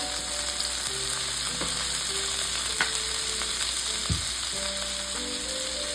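Continuous stir-frying sizzle as soy sauce and tomato ketchup go into a pan, steady and close with occasional utensil scrapes and clicks, no talking.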